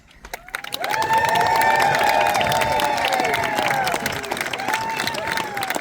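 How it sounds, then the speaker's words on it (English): An outdoor crowd at a Golden Spike reenactment at Promontory Summit, Utah, clapping and cheering loudly with shouts rising over the applause, sustained for several seconds. "another round of applause for our tremendous cats"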